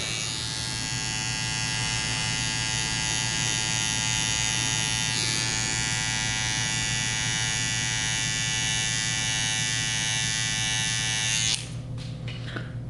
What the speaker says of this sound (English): Sketching it, just using the corner of our clipper.